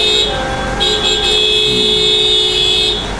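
Car horns at Bankerohan market in Davao, Philippines, a steady near, loud, sustained tone over traffic noise, with no talk.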